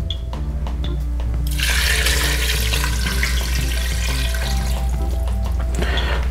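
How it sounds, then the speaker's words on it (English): Water streams into an Instant Pot holding pasta in a loud, continuous pour. It starts after a short pause and splashes steadily over a low electric hum and some faint background music. "Now I'm adding 500 ml of water."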